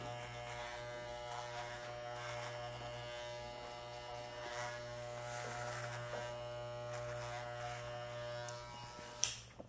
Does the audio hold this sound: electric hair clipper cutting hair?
yes